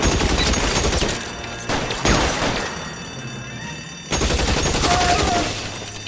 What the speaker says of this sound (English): Shoot the guy's hand.